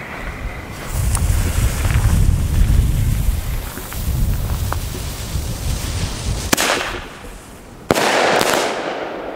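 A firework bomb tube with about 2.5 grams of net explosive fires with a sharp bang, then a second report near the end, bursting into a dense crackling spray over a steady rumbling outdoor background.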